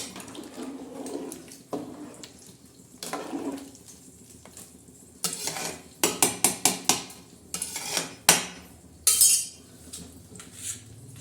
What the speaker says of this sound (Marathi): तांदूळ सोडलेले आहे आणि हे सगळं असं असं हलवणार आहोत